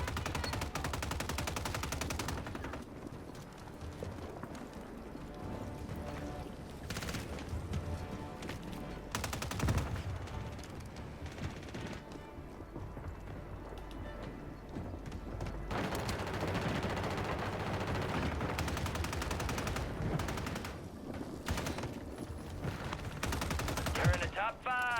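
Bursts of rapid gunfire crackle through a noisy Black Ops 6 soundscape, some shots sustained and automatic, others sporadic, with occasional talk between them.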